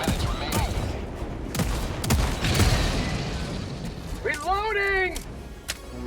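Gunfire from the MP 98 Knight submachine gun in Helldivers 2, bursts of shots and booms running through a busy battlefield mix, with voices calling out beneath the shooting.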